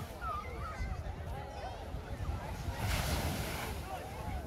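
Surf washes onto the beach at Praia Martim de Sá in Caraguatatuba on a morning, a continuous rolling rush of waves overlaid by gusty wind buffeting the microphone.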